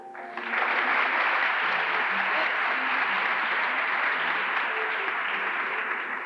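A pageant audience breaks into broad, sustained clapping that starts suddenly and holds steady for several seconds, a dense wash of applause from a hall crowd.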